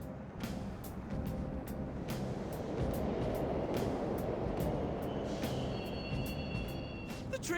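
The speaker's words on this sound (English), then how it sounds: "The trains are totally running!" A train running through a station platform in Persona 5 Royal, heard as a steady rumbling rail roar with repeated clacking ticks and a faint high squeal toward the end, with no voices over it.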